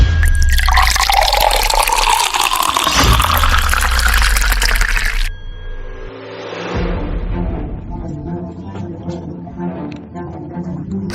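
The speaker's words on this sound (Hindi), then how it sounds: "सर ये कीचड़ वाला पानी कहाँ से आ गया?" Muddy water gushes loudly at first in a strong splashing rush, then drops to a softer trickling flow with scattered drips and light background noise.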